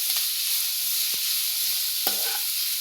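Vegetables for a crispy street-style veg roll sauté in a pan, producing a constant bright hiss with two or three soft stirring scrapes.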